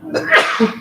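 A single sharp sneeze from someone at a utility district board meeting, close and loud, lasting under a second.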